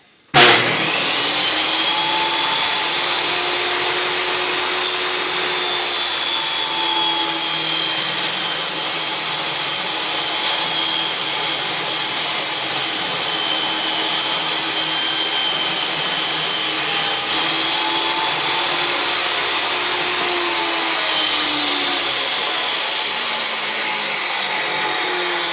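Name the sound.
power saw cutting a bevel in a fence picket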